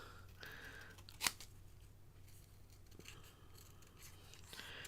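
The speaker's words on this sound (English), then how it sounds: "I think I'm going to cut that piece off." Scissors snip a piece off paper in a craft session, one crisp close cut followed by quiet rustling and faint handling noises in a hushed room.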